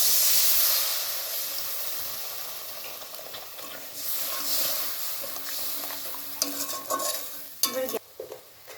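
Steady hissing sizzle from a frying pan of potatoes for alur dom after water is added, loud at first and easing, with a few clinks of stirring near the end.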